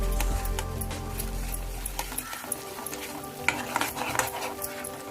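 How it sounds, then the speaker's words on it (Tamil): A spoon scrapes and stirs thick carrot halwa in a pan, with soft sizzling and irregular clinks of utensil against metal up close. "அதனால கிண்டி கொண்டே இருங்க."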